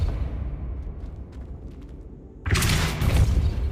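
A Depulso spell blast in Hogwarts Legacy hits as a sudden loud, broad boom with a rushing burst that follows a quieter, rumbling game ambience.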